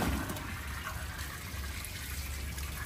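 Water pours and trickles over a three-month-old French Bulldog puppy being rinsed in its first bath, a soft, continuous splashing flow close by.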